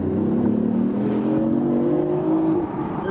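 A hybrid car accelerates hard with its electric motor and gasoline engine working together, a rising whirring engine note climbing steadily for a few seconds, close and loud with no talk.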